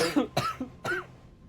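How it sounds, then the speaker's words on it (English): Several wet, rough coughs come close to the mic, three or four harsh bursts in quick succession followed by a short quiet tail. "the coughs are also getting like wetter and longer"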